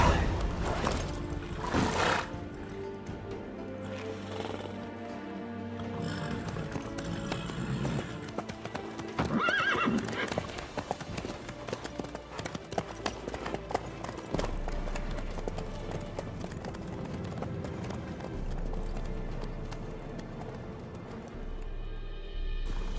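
Horse hooves clip-clop steadily in a video game over a dense bed of music and ambience, with occasional louder thuds and hits, moderately close.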